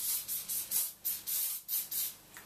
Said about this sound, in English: if you get some hairspray, I'm just using the James Brand London one